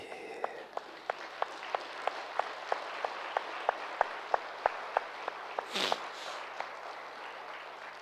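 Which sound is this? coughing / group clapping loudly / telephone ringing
group clapping loudly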